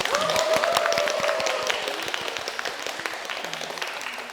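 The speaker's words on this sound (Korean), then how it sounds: "박수 한번 크게 보세요" A Korean television studio audience breaks into loud, sustained applause for three paramedics, the clapping strongest at the start and easing slightly over four seconds, with a brief voice or cheer early on.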